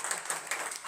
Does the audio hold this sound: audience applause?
yes